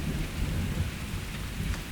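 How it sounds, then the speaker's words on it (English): Heavy thunderstorm with a low rumbling roll of thunder under a dense, steady hiss of pouring rain, close and continuous, with no voices. "Lightning crashing, thunder roaring, rain pouring down,"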